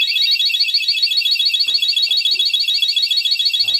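Second alarm pattern from an electric scooter's installed alarm system, a continuous loud, high electronic warble held the whole time, with faint clicks and handling noises underneath.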